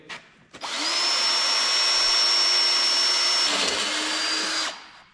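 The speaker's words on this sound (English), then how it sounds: "Pilot hole drilled." Power drill boring a pilot hole during a wrecker-game project, the motor spinning up to a loud, steady whine for several seconds before winding down, close and alone.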